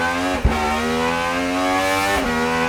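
A Gordon Murray GMA T.50s with a V12 engine accelerates hard on a track, its loud, high-pitched howl climbing steadily, broken by two quick gear shifts.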